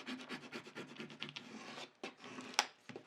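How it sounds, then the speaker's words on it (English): A scraping tool rubs layered vinyl down onto transfer tape in quick repeated strokes, a close, dry rasping scrape with short pauses and one sharp click near the end. "Just using my scraping tool to really scrape down"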